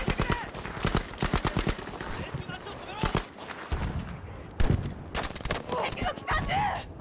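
Rapid bursts of gunfire from the video game Battlefield 5, with clusters of sharp shots in quick succession and a few isolated reports, mixed with player talk and game noise throughout.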